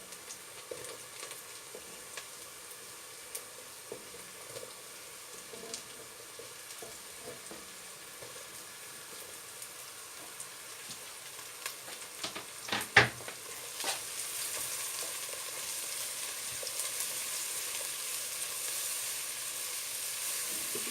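Chopped mushrooms fry in a pan for Turkish pasta, a soft steady sizzle with faint crackles that swells after a sharp clatter of a utensil partway through.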